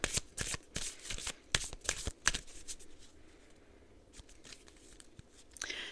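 Oracle cards being shuffled by hand, a series of crisp riffling bursts and soft flicks, fairly close and moderately loud, with a quieter stretch in the middle before shuffling resumes.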